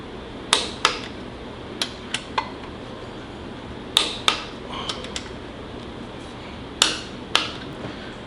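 A torque wrench tightens bolts on a 440 MOPAR engine to 30 ft-lb, producing sharp ratcheting clicks in short bunches separated by pauses, close and crisp over a quiet room background.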